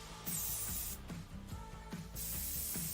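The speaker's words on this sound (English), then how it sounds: "Let's just do a little test spray here on this paper here." Short bursts of airbrush test spray onto paper hiss on and off, close and fairly loud, with brief pauses between the sprays.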